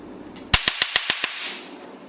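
Nd:YAG picosecond laser firing test shots: one sharp snap followed by five more evenly spaced clicks in quick succession, close and fairly loud, with no talk.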